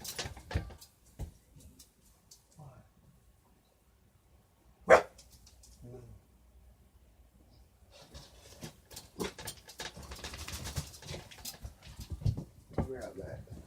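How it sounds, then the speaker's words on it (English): A small dog gives a single sharp, loud bark amid scattered quieter yips and household noise, with people talking before and after the bark. "see what I mean about my little dog being on high alert?"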